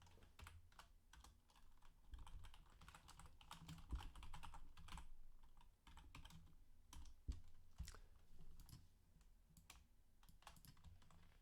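Keys clatter on a computer keyboard in quick irregular bursts of typing with short pauses, close and moderately quiet, with no talking.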